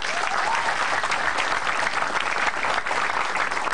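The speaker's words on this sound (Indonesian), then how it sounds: "tepuk tangan." A stand-up comedy crowd claps in a sustained, full burst of applause, close and loud, holding steady for several seconds without a break.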